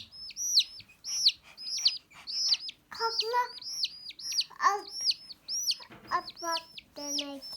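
A group of fluffy baby chicks chirp nonstop up close: rapid, high, repeated peeps overlapping in bursts, with voices briefly talking over them.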